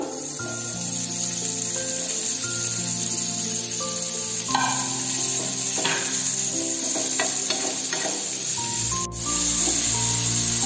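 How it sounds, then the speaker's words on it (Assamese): Boiled chicken sizzling loudly in a hot pan for chowmein, with stirring scrapes and a brief sharp clank near the end, no talking. "এয়া বইল কৰি থোৱা মাংসখিনি ইয়াতে অকণমান ভাজি ল'ম।"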